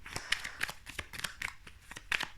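Tarot cards being shuffled and drawn at close range, a quick run of soft riffling flicks and papery slaps in an uneven rhythm, fairly quiet with no talking over it.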